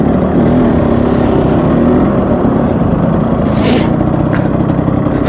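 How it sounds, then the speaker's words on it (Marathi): A Yamaha RX100 motorcycle on a Sunday morning ride near Mahad, its two-stroke engine a loud, constant drone mixed with heavy wind rush, close and unbroken throughout. "तर आता आज आपण घेऊन आलो आपली ही बाईक RX100."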